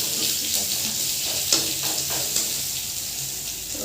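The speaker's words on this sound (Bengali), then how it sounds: "দেখো রসুনটা দিয়ে দিলাম, রসুনটা লাল করে ভেজে নেব।" Crushed garlic sizzles steadily in hot oil in a pan, a continuous broadband frying hiss with a few faint stirring clicks, close and moderately loud with no talk.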